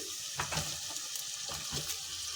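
Onions and tomatoes sauté in a pan for fish curry, giving a soft, steady sizzle with a few quiet stirring scrapes, faint and close with no talking.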